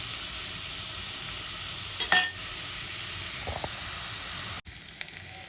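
Onions fry over low to medium heat in a pan with a steady, close sizzle and hiss, broken by a brief stir or scrape partway through.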